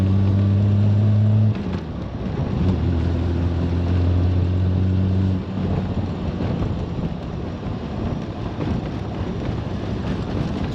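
A 1971 Triumph Vitesse classic car drives along, its engine droning with a low, steady hum beneath heavy wind buffeting, the pitch dropping briefly as the driver shifts gears, first early on and again midway.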